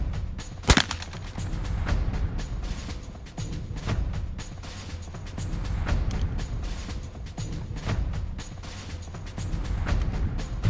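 Repeated shotgun blasts at a trap and skeet range on a military base, sharp reports spaced a few seconds apart over steady outdoor background noise, one especially loud near shot early on.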